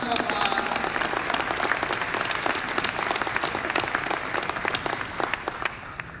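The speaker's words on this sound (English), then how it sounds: "Let's give them all a giant round of applause." An audience at a tech conference gives a loud, dense round of applause, many hands clapping steadily together before the clapping gradually thins out at the end.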